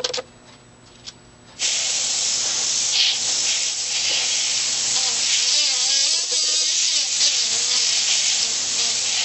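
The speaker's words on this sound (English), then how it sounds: "Being a double action airbrush like this is, allows me to control the air more than a single action airbrush also." A double action airbrush sprays at very low air pressure onto a fondant cake, giving a steady close hiss that starts after a short quiet moment and runs continuously to the end.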